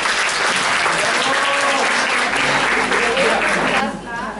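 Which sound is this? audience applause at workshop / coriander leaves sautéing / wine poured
audience applause at workshop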